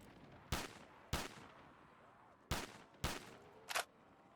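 A video game firearm fires at zombies during zombie rounds, giving five sharp, separate shots at irregular intervals. The last shot is thinner and lighter. There is a quiet background between the shots and no talk.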